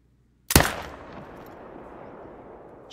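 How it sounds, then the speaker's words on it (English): A single sharp rifle shot, fired at a gator in theHunter: Call of the Wild, cracks loud and close, then trails off into a long, fading echo. "Shot him again."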